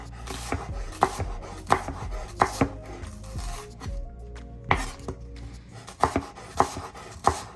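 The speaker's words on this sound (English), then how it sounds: "Chop that up." A knife chops fresh scallion on a cutting board in a home kitchen, with a steady series of close, crisp chops in irregular bursts.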